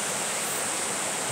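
Steady rushing water pouring out of a mountainside in Japan close by, a dense, even hiss with no pauses and no voices.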